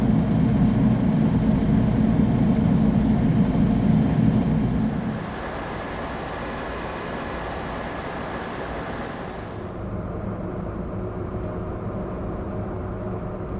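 Idling bus engines from the OMSI and The Bus simulator games: a steady low rumble with broadband hum, louder and bassier for the first five seconds, then a softer, smoother idle loop running on alone.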